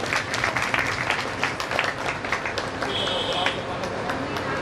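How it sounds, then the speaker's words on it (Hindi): An audience at a Radha Bhagwat katha claps in a dense, steady patter across the whole stretch, with a voice speaking over it. "ताली तो आप लोग बजा रखिए"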